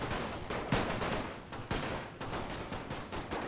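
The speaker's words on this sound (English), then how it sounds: "Okay, open fire." Rapid gunfire from a World War I strategy game, a dense continuous barrage of overlapping shots and sharp cracks with brief louder bursts throughout, no voices.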